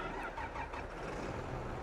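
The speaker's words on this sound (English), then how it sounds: "It's a big tractor on a little cultivator." A big tractor pulling a small cultivator in a farming game hums at a steady mid-pitched engine drone, fairly quiet and continuous, with no talk over it.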